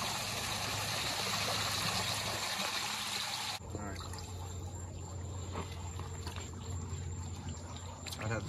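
Water being scooped and poured out of a backyard pond, a continuous splashing, trickling wash that is loud and close at first and then eases to a softer steady trickle.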